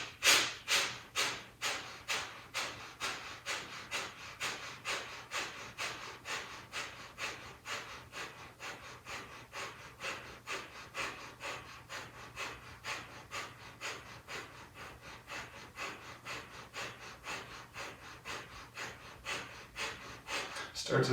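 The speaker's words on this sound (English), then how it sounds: "Exhale completely through our nose. And we'll inhale 3/4 of the way." Rhythmic, forceful nasal breathing of a pranayama exercise, quick sharp exhales through the nose repeating steadily for about twenty seconds, close and fairly loud, with no talking over it.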